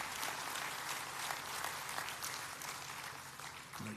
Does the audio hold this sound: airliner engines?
no